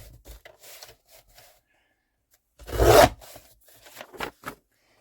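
A paper trimmer slices a thin strip off the edge of a handmade journal cover, giving one short, close scraping cut. Quiet rustling and handling noises come before and after it.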